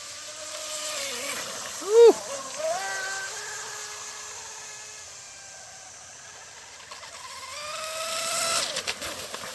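A small RC shrimp outrigger boat with a triple S electric motor and 4016 prop runs on water, its thin whine rising and falling as it speeds past, faint in the middle and louder near the end, with a voice briefly heard.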